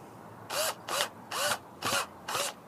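Power screwdriver gun driving a screw into wood for a homemade insect catcher net, five short whirring bursts in a steady rhythm, close and alone.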